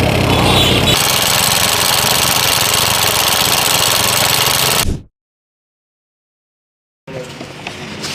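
A TVS Apache motorcycle engine, recently serviced, is revved hard in a loud, rough, steady roar that cuts off abruptly into two seconds of silence before the engine noise resumes.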